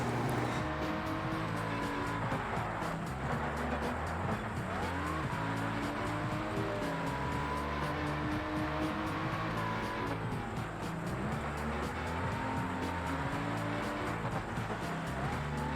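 A Lamborghini race car in an unreleased racing game drives a wet, dark track, its engine droning loud and steady as it revs up and down through the gears, with tire noise under it throughout.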